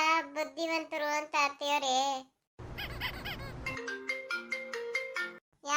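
Mobile phone ringtone playing a bright melodic tune loudly and close, in two bursts separated by a short pause, with a brief noisy passage in between.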